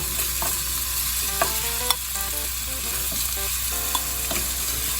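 Pork belly for pad kra pao fries in a hot pan with a steady, dense sizzle, while a utensil stirs and scrapes in a few light knocks close by.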